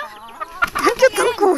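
A farm hen gives a short burst of clucking, close and moderately loud, over faint background sounds on a rural property.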